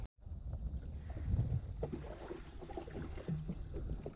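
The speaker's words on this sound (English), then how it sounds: "The wind is actually starting to get up a bit now as well." Wind gusting across the open ocean while fishing for tuna from a jet ski, a steady low roar buffeting the microphone with rough, uneven swells throughout.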